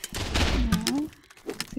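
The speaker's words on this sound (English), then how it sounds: "So we did have some grenades going off in there" Grenades go off in a competitive multiplayer shooter match, a quick cluster of sharp bursts and booms packed into under two seconds, loud and close, with a commentator's voice over them.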